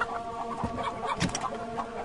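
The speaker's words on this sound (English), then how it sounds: "Chicken, what are you doing walking on that roof?" A chicken clucks in the Stronghold strategy game, a few short close clucks over a dense background of village ambience, with no speech.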